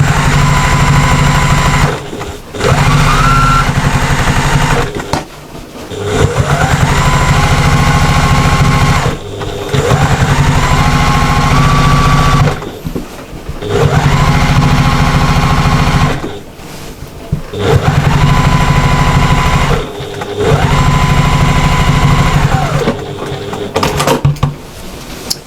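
Domestic sewing machine running in long loud bursts to quilt stitch lines on a lap quilt, a steady motor whir with rapid needle hum, broken by short pauses and clunks between runs.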